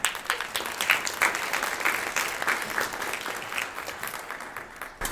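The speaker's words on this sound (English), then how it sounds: "Let's give them a huge round of applause as well." An audience at a jazz breakfast bursts into loud, sustained applause, a dense roomful of clapping with scattered prominent claps, gradually thinning as it fades out.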